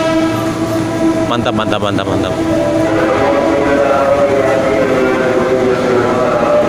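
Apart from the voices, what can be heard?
train passing at station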